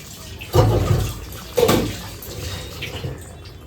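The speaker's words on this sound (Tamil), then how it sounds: "தண்ணி ஊற்றிடலாம்" Water poured into a pot of chicken gravy in two short gushes, splashing close up, then a quieter trickle fading out.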